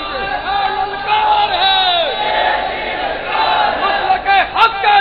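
A crowd at a religious gathering roars slogans back to a preacher, a dense loud wave of many voices shouting in unison, swelling and surging in several bursts across the clip.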